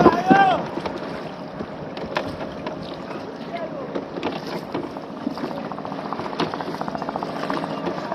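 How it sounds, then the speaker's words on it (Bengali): Boats moving on the open sea at Patenga beach, engine drone and water wash carried under wind buffeting the microphone, with a person talking nearby throughout. "এগুলো যেটা যাচ্ছে বোট"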